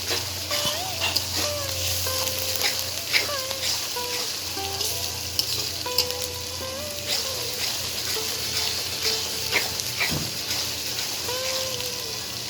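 Spices frying in hot oil in a pan produce a dense, steady sizzle with occasional stirring scrapes, close and fairly loud, with faint tonal background sounds running underneath.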